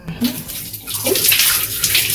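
Shower water runs steadily in a bathroom, a loud continuous hiss and splash that fills the clip without pause.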